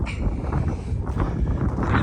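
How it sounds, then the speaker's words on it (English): Strong outdoor wind buffets the microphone in a continuous loud roar, rumbling and gusting throughout with no clear voice over it. "it's super windy out here"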